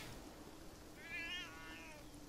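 Single short cat meow from the video game Beyond Eyes, a faint rising-and-falling cry over a quiet ambient background.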